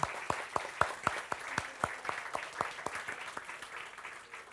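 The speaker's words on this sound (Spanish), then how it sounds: "Aplaudimos al Señor, por favor, por su buena palabra." A church congregation claps in a sparse, rhythmic pattern of distinct sharp hand claps repeating at a quick, even pace, fairly quiet and gradually softening.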